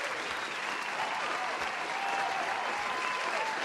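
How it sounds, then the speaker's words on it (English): Applause sound effect: a dense crowd clapping steadily for a few seconds at moderate level, no voices over it. "Let me give you an applause there."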